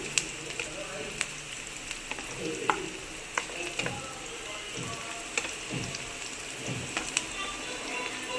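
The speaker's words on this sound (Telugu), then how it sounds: "ఇంకా పచ్చిమిర్చి వేసేస్తుంది ఇప్పుడైతే ఫ్రై చేస్తుంది దీన్ని" Green chilies fry in a pan with a constant crackling sizzle, sharp pops and occasional soft scraping stir strokes, close by.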